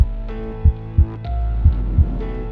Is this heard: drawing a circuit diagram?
no